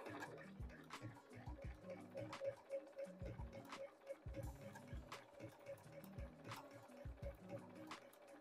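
A sewing machine stitches a Dresden umbrella quilt block, its needle hammering in a fast, steady rhythm of close, loud mechanical clatter with brief pauses and restarts as the fabric is turned.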